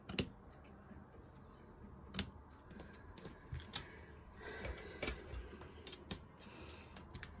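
Scissors trim excess paper from a handmade book-fold patchwork card, giving a few sharp, close snips and clicks spread over a quiet room with no talking.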